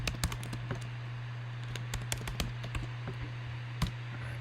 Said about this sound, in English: I have to go and type this all in.